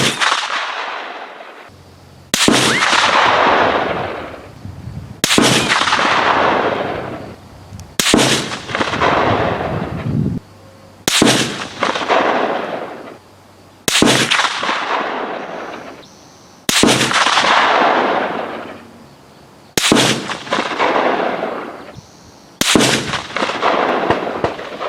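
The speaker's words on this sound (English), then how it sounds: "I just ran 10 rounds out of it with my hand-loaded stuff" Nine sharp rifle shots crack out downrange, fired from hand-loaded Hornady 168 grain match rounds at an outdoor range, each a loud booming report with a long echoing decay, spaced about every two to three seconds.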